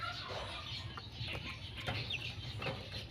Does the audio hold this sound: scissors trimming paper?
no